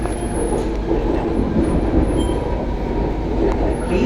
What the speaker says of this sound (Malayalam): മെട്രോ ഇപ്പം ആലുവ സ്റ്റേഷനിലേക്ക് എത്തിക്കൊണ്ടിരിക്കുകയാണ്